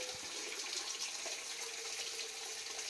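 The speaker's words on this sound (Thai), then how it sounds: "เสียงน้ำตก" Steady rushing water, a continuous broadband hiss with no pauses, like a waterfall heard fairly close.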